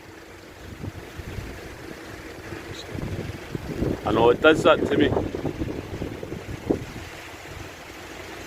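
Wind gusting across an exposed, rainy campsite during car camping, a steady rushing roar with buffeting bursts against the microphone that swell in the middle, while people talk over it.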